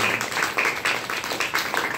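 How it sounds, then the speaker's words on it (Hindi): An audience applauding, a brief burst of fast, even clapping that stays steady and fairly loud throughout. "एक बार डिएक्शन के लिए जोरदार ताली बजा सकते हैं"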